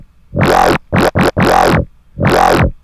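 Growl bass synth patch built in the Massive synthesizer, four loud wobbling notes with vowel-like sweeping filter tones, two short stabs between longer held growls, separated by silence.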